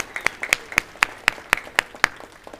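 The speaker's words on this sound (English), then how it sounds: "Let's give the wait staff in the back a big round of applause." Applause for the wait staff at an event comes as a series of crisp, evenly spaced claps, loud and close, about four per second, sounding like a few hands rather than a full crowd.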